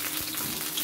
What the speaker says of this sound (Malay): Kacau dan goreng sehingga baunya wangi.